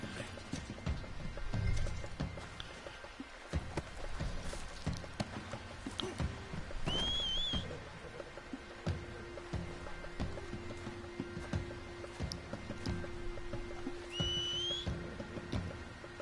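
Two short rising whistles calling a horse in Red Dead Redemption 2 ring out several seconds apart over a busy outdoor game soundscape with soft hoof clops and background rumble.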